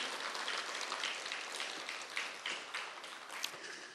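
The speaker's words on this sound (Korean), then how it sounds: "다시 한번 감사합니다 하고 박수로 표현해 보죠" A church congregation applauds in a dense, steady wash of many hands clapping at moderate volume, heard without speech.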